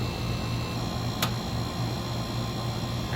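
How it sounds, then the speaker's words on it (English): The contactor of a Carrier 38CKC air conditioner, a unit with a refrigerant leak, pulls in with one sharp click partway through. A steady low mechanical hum runs underneath. "You might hear the contactor pull here in a second"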